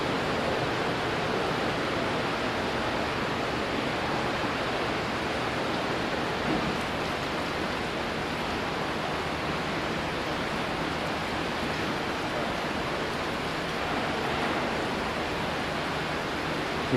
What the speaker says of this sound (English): We're now reducing flow through the 24-inch check valve.